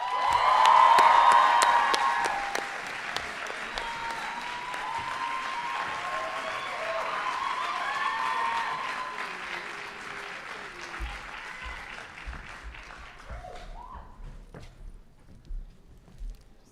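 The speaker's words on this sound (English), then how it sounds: "Huge round of applause." Graduation ceremony audience at UWC Atlantic bursts into loud applause with cheering, peaking early then settling into sustained clapping that gradually tapers off to scattered claps.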